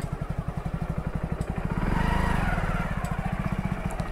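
A motorcycle rumbles at idle nearby with a steady, rapid, chugging pulse, briefly swells in a short rev, and then settles back to its even idle as it is parked.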